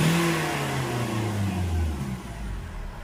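A Hyundai Accent CRDI diesel engine with a hard-starting problem revs up close by, its pitch sweeping and then falling back toward idle over a few seconds, with no voices.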